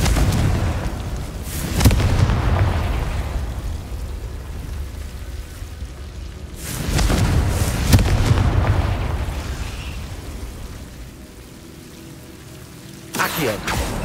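Repeated Confringo fire-spell explosions in Hogwarts Legacy, three broadband booming blasts a few seconds apart, each followed by a rumbling, crackling tail over steady game background.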